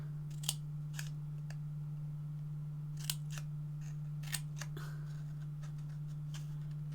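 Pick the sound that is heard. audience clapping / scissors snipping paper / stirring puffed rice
scissors snipping paper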